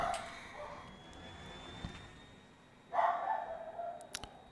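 A dog barks at intruders, muffled and faint at first, then a louder burst of barks about two-thirds of the way through.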